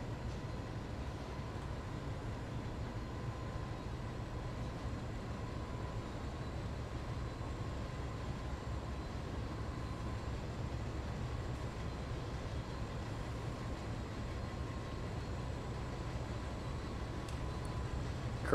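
Diesel locomotive in Train Sim World on the Great Western Express route, a steady low rumble of engine and wheels on rail, continuous and even, with no voices.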